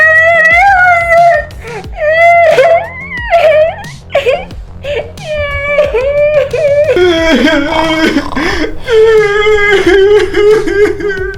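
A Talking Angela doll gives loud, continuous high-pitched crying and wailing, with wavering sobbing tones that rise and fall across the whole stretch, close to the listener.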